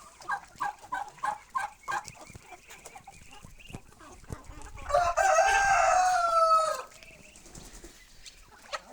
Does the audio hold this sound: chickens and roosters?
yes